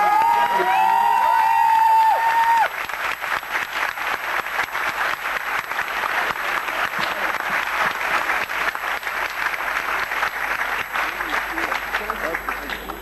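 Sustained applause from an audience at an event honoring an animation team's Grand Prix win, steady dense clapping with some cheers, following a brief voice at the start.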